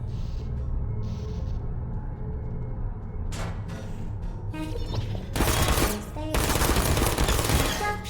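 Automated turret gunfire in the video game Portal, rapid bursts of machine-gun fire breaking out in the second half, loud and sustained, after quieter mechanical sounds and brief noises.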